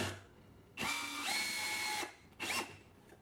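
A drill drives countersunk screws into a soft cedar board, giving two close whirring bursts, the first longer with a rising pitch and the second brief, separated by quiet.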